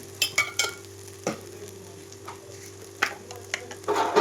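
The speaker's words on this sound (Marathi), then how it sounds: "आता ही पेस्ट तेलामध्ये टाकून घेतलेली आहे आणि आता छान अशी ना तेल सुटेपर्यंत भाजून घेते" A lentil and spice paste with red chilli powder fries in oil while being stirred, with scattered sharp scraping strokes over a low, steady sizzle and a denser burst of stirring near the end.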